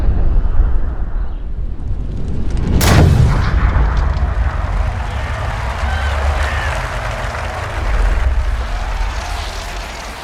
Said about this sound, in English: that was a beautiful golf swing right there